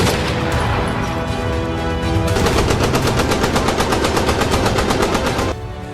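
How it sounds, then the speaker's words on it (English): Rapid automatic gunfire in a city street during a violent clash, a dense, continuous rattling burst of shots echoing between buildings, loud and sustained for several seconds before cutting off. "Dramatic visuals circulating online show gunfire echoing through the streets."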